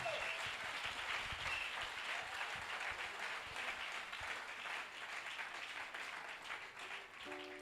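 A church congregation applauding to acclaim the Lord, a dense sustained roar of clapping that fills the whole stretch, loud and continuous with no voices standing out.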